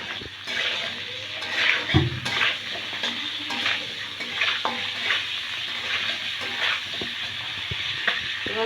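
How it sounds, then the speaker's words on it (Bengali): Potatoes fry in a pan with salt and turmeric, giving a continuous moderate sizzle punctuated by frequent stirring scrapes and a clank of cookware, without speech. "একটু সামান্য লবণ দিয়ে আর একটু হলুদ দিয়ে আলুটাকে ভেজে নিব"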